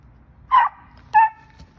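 A coonhound barks twice during tree training, two loud, close, separate barks about half a second apart with quiet between them.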